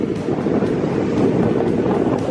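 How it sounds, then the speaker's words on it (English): Steady wind at a beach buffets the microphone with a constant low rumble and gusty roar, no voices heard. "It's a bit windy today, so sorry about that noise, guys."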